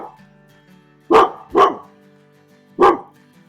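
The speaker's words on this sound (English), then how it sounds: "That's Susie in the background, barking at something." Susie the dog barks sharply three times nearby, two quick barks followed after a pause by a third, over an otherwise quiet room with a faint low hum.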